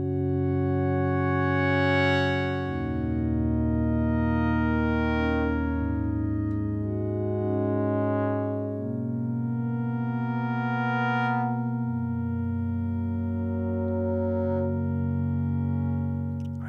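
A lush ambient pad on a Novation Peak synthesizer with resonant filtering, rich sustained harmonic chords that slowly shift and swell in brightness, loud and continuous with no voices.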